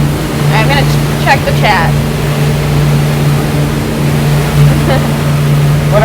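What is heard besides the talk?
boat engine cruising out of marina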